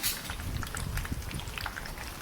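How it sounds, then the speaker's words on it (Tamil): Small balls of poha snack dough frying in hot oil in a pan make a soft, close bubbling crackle that stays low and continuous. "ஒரு பேன் வச்சுக்கோங்க எண்ணெய் ஊற்றிக்கோங்க சூடானதும் இந்த மாதிரி குட்டி குட்டி பால் மாதிரி போட்டு எடுத்துக்கோங்க"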